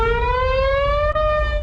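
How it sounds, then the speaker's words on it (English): A newly installed tornado warning siren in Fort Worth, part of a 132-unit citywide system, wails loud and steady with a slowly rising pitch, sounding alone. "132 new sirens have been placed throughout the city."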